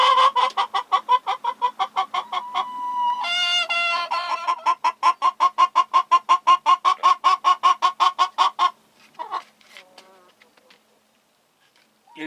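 A hen at an allotment clucks loudly and repeatedly in a fast, steady run of sharp calls up close, breaking into a louder squawk midway, then trailing off into scattered softer clucks and near silence.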